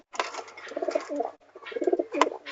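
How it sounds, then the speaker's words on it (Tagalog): A pigeon coos close by in two soft, throaty bursts of rolling notes, with a brief pause between them. "Habang hinuhuli po, pinapakita ko po sa inyo ng kalapate."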